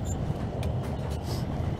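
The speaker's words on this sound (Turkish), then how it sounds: "Bu tren gidiyor." Train moving in Crysis Warhead, a steady low rumbling roll with faint clatters on top, fairly loud and continuous, no talk.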